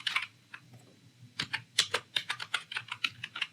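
Crisp, close typing of JavaScript code on a computer keyboard: a few scattered keystrokes, then a fast, even run of distinct clacks.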